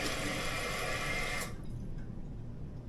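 A toilet tank overfills, a loud rushing hiss of water that cuts off sharply after about a second and a half, leaving a faint trickle and room noise.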